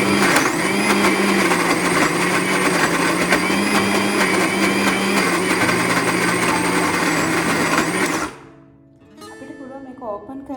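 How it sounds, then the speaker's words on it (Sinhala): An electric blender grinds lentils for parippu vadai, a loud, steady high-pitched motor whine running for about eight seconds before cutting off, followed by quiet clatter. "අපි දැන් මේක බ්ලෙන්ඩ් කරගමු."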